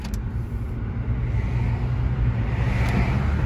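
A Nissan Sentra with a slipping CVT transmission driving down the road, heard from inside as a steady low engine and road rumble with constant tyre noise and no speech.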